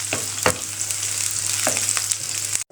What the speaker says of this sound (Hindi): अच्छे से घी डालेंगे ताकि ये फ्राई हो जाए।